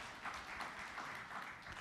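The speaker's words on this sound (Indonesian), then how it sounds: "Tepuk tangan yang meriah bagi Tuhan Yesus." Faint, distant applause from a church congregation during a sermon, a steady wash of clapping lasting under two seconds.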